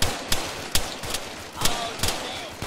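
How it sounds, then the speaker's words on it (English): Gunfire in the Arma 3 video game, played on a Takistan Life server: about six sharp, loud shots in an uneven burst, each a hard crack with a short tail, close and dominating the mix. "Do they open fire just like that?"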